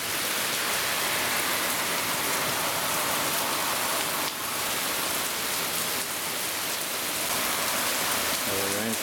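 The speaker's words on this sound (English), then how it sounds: "Oh, the rain's picked up again." Heavy rain pours steadily during a severe storm in St. Louis, heard through an open door as a dense, loud, unbroken roar of drops on surfaces that holds its intensity throughout.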